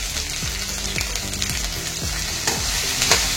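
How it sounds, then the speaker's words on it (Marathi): Okra sabzi with turmeric and salt sautéing in oil in a kadhai, a loud, steady sizzle broken by repeated scraping stirs of a spatula at a close distance, with no voices. "चांगल्या तेलामध्ये परतून घेऊन शिजवून घेते भाजीला"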